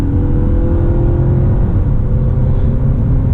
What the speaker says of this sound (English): I'm gonna put it in sport mode. I'll talk a little bit more about that later, and we're gonna do a 0 to 60 run here.